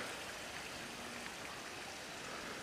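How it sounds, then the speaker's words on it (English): A small creek flows under a little bridge by a trail, a steady, even rush of water close by with no voices. "there's a little bit of water still flowing there"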